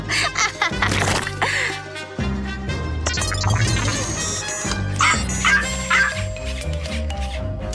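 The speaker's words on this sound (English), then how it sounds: "she's going to use the robot dog" Robot dog in a kids' cartoon giving yipping barks and whimpers over bright cartoon music, with short bursts of barking standing out through the soundtrack.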